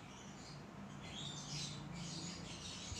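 Baby birds cheep and squawk faintly in a row of soft, overlapping high calls over a low background hum, fairly quiet and distant.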